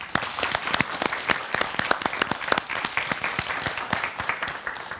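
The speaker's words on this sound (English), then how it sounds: "let's give our contenders a big round of applause" Clapping from a studio audience applauding contestants on a competition show, with distinct individual claps standing out in a lively, steady round of applause that carries on throughout.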